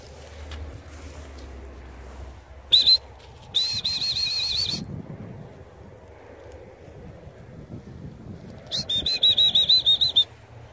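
A bird bursts into flight with flapping wings as it is flushed during gun dog training with a pointing Labrador outdoors, joined by sharp whistle-like tones and rustling in the field.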